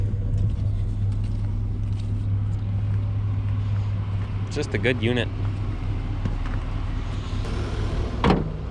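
A 1993 GMC 1500 pickup, revived after sitting ten years, idles with a steady low rumble and hum throughout, while someone talks briefly over it and some chirps and squeaks sound near the end.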